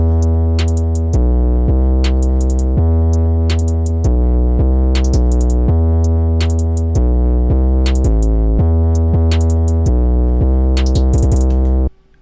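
Full drum arrangement of an opium-type trap beat, loud booming 808 bass notes shifting pitch under quick hi-hat patterns and rolls, running continuously before cutting off abruptly at the end.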